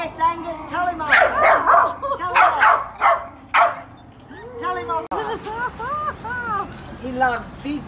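A small Jack Russell pup gives a quick run of excited yips and barks while playing with other dogs, close by, with short pauses in between, sounding playful.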